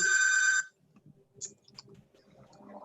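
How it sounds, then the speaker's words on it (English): A phone rings loudly for about half a second before cutting off, followed by faint clicks and low room sounds indoors. "My phone is ringing and it's over there."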